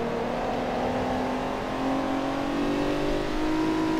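A Toyota Celica Supra engine drones steadily while racing in Forza Motorsport 3, a sustained mid-pitched hum that rises slightly as it pulls, with no talk over it.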